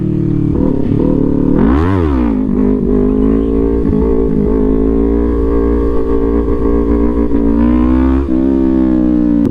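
An Aprilia RS 660 motorcycle pulls a wheelie in second gear, its engine roaring loud and close, sweeping up and down in a sharp rev near the start, then holding a steady high drone before easing off.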